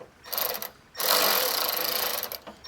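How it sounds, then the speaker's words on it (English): A Milwaukee electric ratchet runs close by during a car hood lift strut installation, with a short buzzing burst followed by a longer continuous whirring run of about a second and a half. "And I'm using a Milwaukee electric ratchet."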